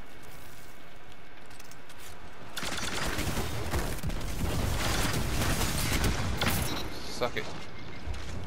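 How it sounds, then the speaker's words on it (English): Gunfire in a one-on-one video game match, a dense, sustained rattle of rapid shots building over several seconds, with a voice talking over it. "He just kept firing."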